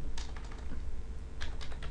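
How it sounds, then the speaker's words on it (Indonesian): Quick keystrokes on a computer keyboard while entering an install command in an Ubuntu Linux terminal, two short bursts of clicky taps, close and fairly quiet with no talking. "Kita ketik sudo apt install PHP"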